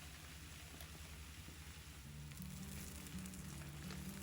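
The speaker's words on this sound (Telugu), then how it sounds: "ఈ పేస్ట్ కొద్దిగా వేగనివ్వండి." Ground masala paste for restaurant-style chicken masala fries in hot oil in a pan, giving a steady, quiet, close sizzle with fine crackling throughout.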